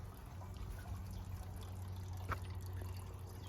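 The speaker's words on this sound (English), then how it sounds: "I have another water feature right here" Water trickling steadily in a rusty metal garden water feature, a soft continuous dribble with a faint drip, heard close and alone against quiet outdoor background hum.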